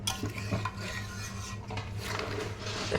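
Chicken curry with a thick gravy is stirred in a pan: a spoon scrapes and knocks against the metal in an irregular rhythm, close and steady, over a faint sizzle, with no talking.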